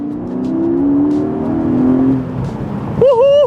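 Porsche 718 GTS with a manual transmission driving and accelerating, engine droning steadily from inside the cabin, then rising sharply in pitch as it revs hard near the end.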